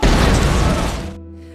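A single loud, close gunshot-like blast from a wartime weapon bursts out and then decays over about a second into a quieter ringing tail.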